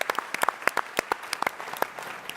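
Audience applause after a startup pitch at TechCrunch Disrupt 2022 in San Francisco: a close, lively burst of many sharp, uneven hand claps that carries steadily throughout.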